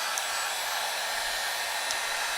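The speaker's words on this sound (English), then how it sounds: "And again, I have a heat gun." A heat gun blows hot air in a steady broadband rush during a Samsung i897 Captivate LCD repair, running continuously and fairly loud with no talk.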